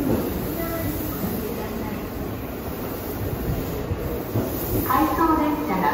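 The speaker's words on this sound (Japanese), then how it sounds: "回送列車が発車します。" An out-of-service Tobu Skytree Line train rumbles heavily nearby as it pulls out of Kita-Senju station toward a siding, steady low mechanical roar with rising wheel noise, while a station announcement warns of the departure.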